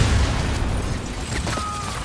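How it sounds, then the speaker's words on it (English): A loud explosion bursts in online Call of Duty: Infinite Warfare multiplayer on Xbox One, opening with a heavy boom that leaves a rumbling, debris-filled wash with faint mechanical tones. "Oh my god, explosion."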